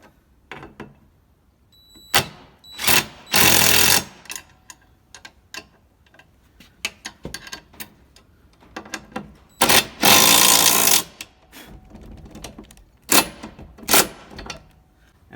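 Power tool tightening bolts on a heavy-duty spare tire carrier on a Jeep TJ, several short loud whirring bursts with clicks and handling noises in the pauses between them.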